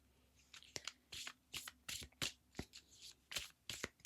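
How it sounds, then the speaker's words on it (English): A deck of tarot cards is shuffled by hand in a quiet room, a quick irregular series of crisp riffling and slapping bursts, close and fairly soft. "You see how much I'm shuffling."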